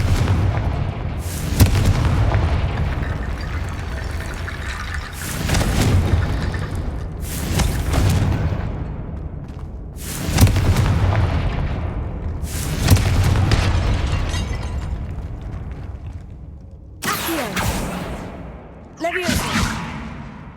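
Confringo spells in the Hogwarts Legacy video game blast a barricaded archway: a run of about eight heavy, booming explosions spaced every couple of seconds, each with a rumbling tail, alongside spoken voices.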